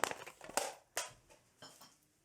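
Rubbish is dropped into a bin at home, a series of soft crinkling, crunching thuds and rustles in irregular bursts, fairly quiet and close with no speech.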